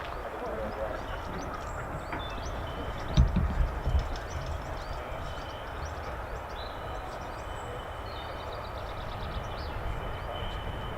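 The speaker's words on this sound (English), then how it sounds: "F-35 startup in the background, Pratt & Whitney's F-135 PW100." F-35 fighter powered by a Pratt & Whitney F135 engine starting up at RAF Lakenheath, heard from a distance as a steady broadband roar with a thin high whine, faint and continuous throughout.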